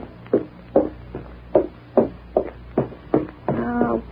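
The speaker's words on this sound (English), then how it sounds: "Go answer the door, Puppy." Eight steady knocks on a door in an old-time radio drama, evenly spaced and fairly close, followed by a brief rattling tail, with no voices over them.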